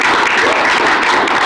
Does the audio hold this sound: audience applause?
yes